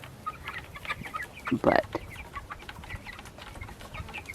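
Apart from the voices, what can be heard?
meat birds, broiler chickens clucking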